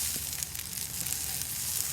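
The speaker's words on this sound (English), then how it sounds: "Then we're going to go ahead and add our 1 whole diced apple." Whole cranberries and a diced apple hit a hot skillet with a continuous, close sizzle and a faint crackle, holding steady the whole time with no talking.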